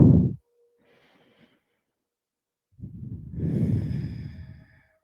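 Deep breathing during a yoga session: one sharp exhale at the start, a pause, then a long, slow, audible breath drawn close to the microphone.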